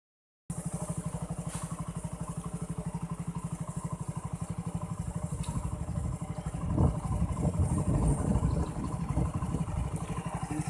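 A clutch-type motorcycle engine idles steadily with a fast, even throbbing pulse, then revs up louder and rougher partway through before settling back, close by and continuous with no talk.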